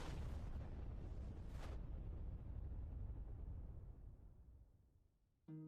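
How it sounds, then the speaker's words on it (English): An explosion sound effect plays during a virtual tabletop game: a loud booming blast with a rumbling tail that slowly fades, followed by a brief tonal chime at the end, with no talk. "It's a sound file of an explosion."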